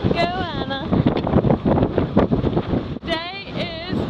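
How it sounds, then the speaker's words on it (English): Steady wind roar and rushing water around a sailing boat running downwind, with cheerful voices talking loudly over the gusts. "we're sailing downwind"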